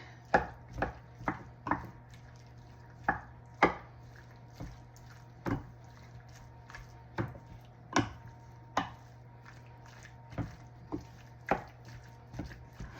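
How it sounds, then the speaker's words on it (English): Spoon scraping and knocking in a BBQ ranch rotisserie chicken noodle casserole as it is stirred, with a steady series of sharp, close taps and clacks spread across the whole stretch and no talk. "Let's go ahead and stir this one."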